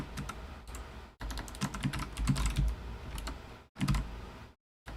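Fast typing on a computer keyboard, dense clusters of clicking keystrokes in bursts separated by short pauses, close and fairly loud with no talk.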